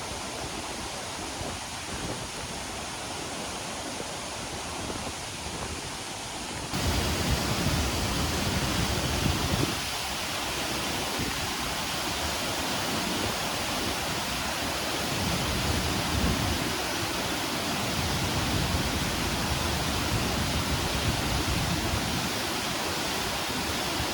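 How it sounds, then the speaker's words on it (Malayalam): Punnayar waterfall in Idukki crashes down with great force, a loud, unbroken roar of pounding water and spray that grows even stronger partway through and holds steady, heard close with no voices. "വെള്ളച്ചാട്ടത്തിനെ നേരെ നോക്കി നിൽക്കാൻ പറ്റാത്തത്ര ഫോഴ്സിലാണ് വെള്ളം തെറിക്കുന്നത്"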